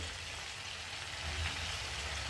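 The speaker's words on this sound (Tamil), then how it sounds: "நல்லா எண்ணெய் எடுத்து இப்படி மேலே ஊற்றி விடுங்க. நல்லா அப்படியே வேகட்டும்." Chicken cooks in hot oil in a pan for a Kerala-style fried chicken curry, giving a continuous dense sizzle with a low crackling bubbling underneath.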